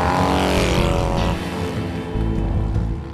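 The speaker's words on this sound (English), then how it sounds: "The BMW Concept Path is driven by BMW's typical flat twin engine with cardan shift drive." A BMW Concept Path 22 scrambler with a flat-twin engine and cardan shaft drive races at the Wheels & Waves festival, a loud, close engine roar that rises in pitch, then drops as it passes.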